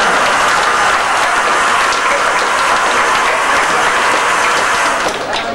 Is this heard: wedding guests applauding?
yes